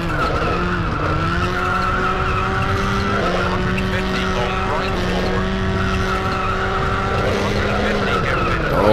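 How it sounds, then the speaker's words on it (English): Rally car in the WRC II Extreme video game braking hard into a hairpin on the Monte Carlo rally stage, a continuous loud engine drone with skidding tyre squeal throughout. "Hard on the brakes."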